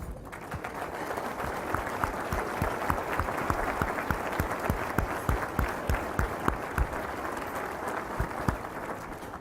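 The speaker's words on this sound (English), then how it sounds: "big round of applause" A seated audience at a state of the economy speech gives board members a sustained round of applause, dense clapping filling the room steadily from start to finish.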